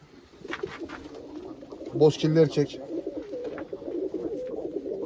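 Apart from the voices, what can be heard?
commando breed pigeons cooing in a coop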